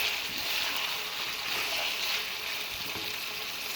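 Chicken liver and peas are stirred in a frying pan, with a dense, even hiss of frying close by and no clear separate strokes.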